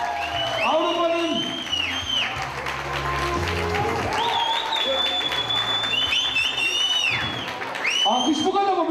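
Wedding hall audience applauds beneath loud music and an amplified voice, the clapping a steady wash mostly masked by the melody and talk.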